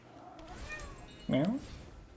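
A person's voice imitates a cat's meow once, a short, mid-pitched, rising-and-falling call near the middle, close and fairly loud over faint background sound during a Magic: The Gathering game session.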